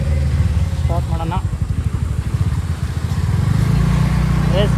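A motorcycle engine starts and runs near a temple circle, its loud, steady low rumble sharpening into a fast pulsing chug midway, while people talk briefly over it.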